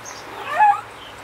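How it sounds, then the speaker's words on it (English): Three-week-old puppies whimpering, a single soft, high whine that swells briefly near the middle before fading, close by and quiet with no talking. "These are puppies from Mr.Duru and Molecula."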